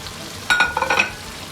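Qeema karela sizzling in a pan as green chillies and fried onions go in, a steady close sizzle that swells briefly with a burst of stirring and hissing.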